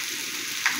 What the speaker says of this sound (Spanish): A modo de que chille la cazuela